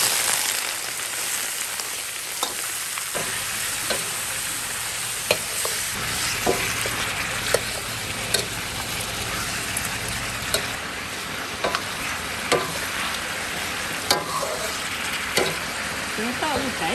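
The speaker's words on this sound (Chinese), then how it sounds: "火呢也不能太大。 太大了容易焦掉，给它炒出颜色啊，有泡泡，有起泡泡" Pork trotters sizzle and fry in a wok, a steady crackling hiss across the whole stretch, punctuated by regular scraping clacks of a spatula stirring them, close up.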